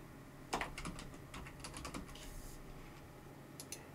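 Keystrokes on a computer keyboard as a to-do item is typed into an app, a quick burst of light clicks over a couple of seconds, then a pause and two final taps, close and fairly quiet.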